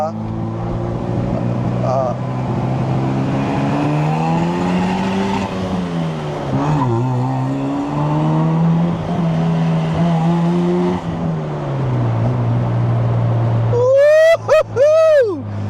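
A modified Mazda RX-7 rotary engine pulls hard on an open road, its loud droning note rising and falling through gears, then shrieking up sharply in a couple of high revs near the end, with voices talking over it.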